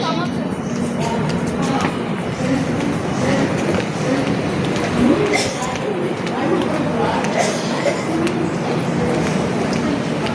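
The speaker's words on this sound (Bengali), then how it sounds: "এটা হয় কামাখ্যা এক্সপ্রেস।" The Kamakhya Express rolls past with a dense rumble and faint clatter of rail cars, while people talk over it close by throughout.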